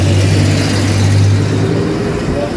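A car drives past nearby with a steady low engine hum that holds for a couple of seconds, loud and close, then eases slightly as it moves on.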